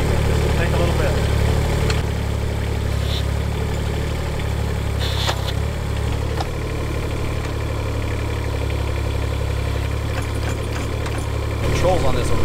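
A Case CX17C mini excavator engine idles with a steady low rumble throughout, while people talk over it close by.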